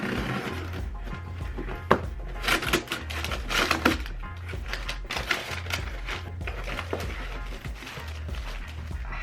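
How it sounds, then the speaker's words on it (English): A mailed package of Sojourner travel gear is torn open by hand, giving close, crisp crinkling, tapping and rustling bursts over a steady soft musical beat. "the folks at Sojourner were kind enough to send me this package that I'm gonna open here with y'all"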